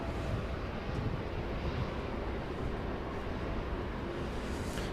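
An airliner takes off from runway 18L at DFW Airport, heard as a distant, steady roar of jet engines with wind noise blowing across the microphone throughout.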